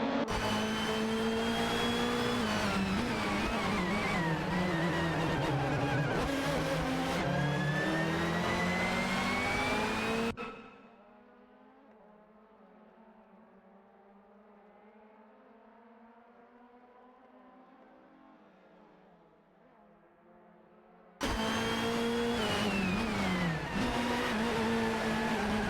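Race cars accelerating and overtaking in an AI racing game: loud, close, rising whines of engines over the first ten seconds, then a long muted stretch of low hum, before the roaring engines return abruptly.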